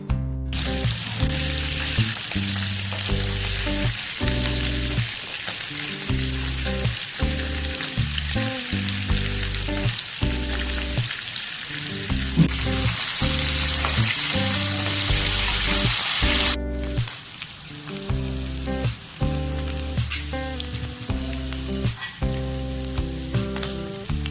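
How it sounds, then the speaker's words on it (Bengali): Bata fish frying in hot mustard oil over a medium flame, a loud, dense, steady sizzle and crackle close up, unbroken and with no talk. "এবার এক এক করে মাছগুলোকে দিয়ে ভালো করে মিডিয়াম ফ্লেমে ভেজে নেবো"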